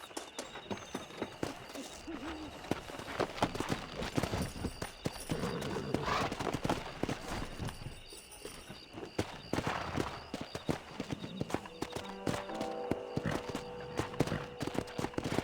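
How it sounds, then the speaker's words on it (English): Horses clip-clopping and neighing while being wrangled in the Western video game Red Dead Redemption, with repeated hoof strikes, a few whinnies, occasional birdsong and some talk over the top. "Let's see if we can't wrangle some horses."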